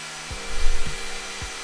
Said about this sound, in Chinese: 995元的小米吹风机